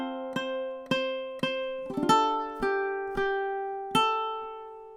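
Ukulele playing measure 17 of a song, a sequence of bright plucked single notes and a quick strummed chord in a steady rhythm, each note ringing and decaying, close and clear with no talking.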